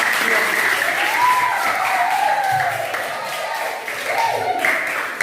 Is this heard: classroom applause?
yes